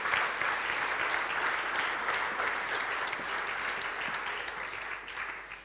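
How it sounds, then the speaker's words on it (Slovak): A large audience claps continuously to greet the president of the Slovak athletics federation at an evening event, a dense, steady roar of applause that eases slightly toward the end. "dobrý večer, veľký potlesk."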